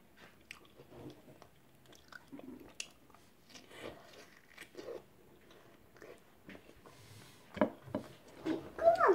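Someone eats a homemade dragon fruit cheese ball up close, with soft wet chewing and crunchy bites, quiet at first and louder toward the end.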